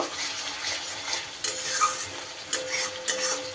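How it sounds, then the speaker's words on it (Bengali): Spice paste with coriander powder is sautéed in a pan, a quiet bubbling sizzle with a few sharp taps of a spoon against the metal. "সুন্দর করে মশলা কষিয়ে নেব।"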